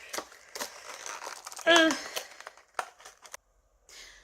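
Plastic packaging crinkles and rustles up close, with a sharp tearing burst partway through, while a person speaks quietly over it.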